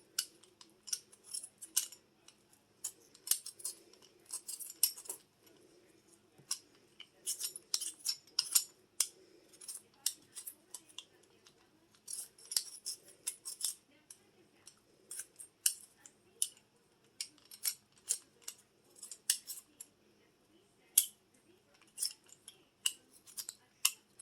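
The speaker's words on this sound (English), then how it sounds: "I'm cutting my potatoes into threes." A knife cuts potatoes into pieces on a cutting board, making crisp, close slicing strokes and light taps in a loose, steady rhythm that runs for about twenty seconds with no talking.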